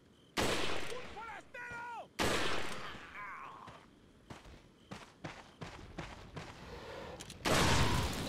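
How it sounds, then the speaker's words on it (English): Loud, sharp gunshots in Resident Evil 4 HD Project, several separate blasts spaced seconds apart with ringing tails, with quieter clicks, shuffling footsteps and faint voices in the gaps. "Four shots."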